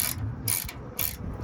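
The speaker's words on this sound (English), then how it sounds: "If you can find yourself a good deal on some of these ratcheting wrenches" A ratcheting wrench clicks while loosening a Tork Lift camper tie-down on a Toyota Tundra, giving quick, close bursts of sharp metallic ratchet clicks in a repeating rhythm.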